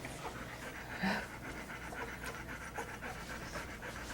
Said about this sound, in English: It's so hot out. Poor Libby's panting, even though the house is air conditioned.